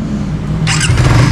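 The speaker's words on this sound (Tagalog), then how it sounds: "Paparinig ko sa inyo guys yung tunog ng kanyang engine." A Suzuki Raider FI 150 motorcycle engine idles low and steady, then a brief sharper rev rises near the end, close and fairly loud with no talk over it.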